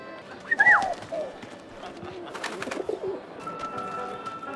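Brief pigeon coo from the video game 11-11: Memories Retold, a soft warbling call near the start, followed by footsteps and faint background murmur.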